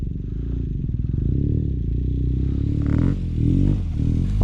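A trail motorcycle on an Icelandic mountain track (F910) is pushed at full throttle, its engine droning loud and close with a rising, pulsing tone and rattling over rough ground.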